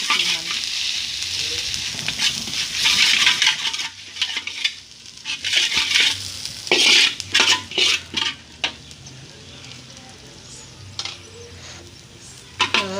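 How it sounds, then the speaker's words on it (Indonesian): Ground spice paste stir-frying in a wok for street-style fried rice, a loud steady sizzle broken by repeated scraping and clanking of the spatula against the pan. "Setelah itu kita masukin bumbu yang telah dihaluskan."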